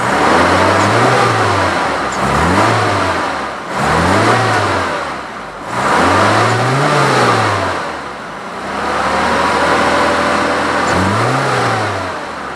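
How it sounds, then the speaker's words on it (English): An Isuzu 117 Coupe engine, started from cold, is revved repeatedly in short bursts, each rev rising and falling in pitch with slight hesitation, loud and close with a steady idle between blips. "And now we're going to go ahead and rev up the motor."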